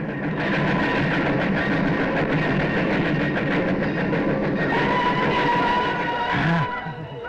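A train rumbles past close by, a loud continuous roar with clattering wheels and a brief high squeal, fading slightly at the end.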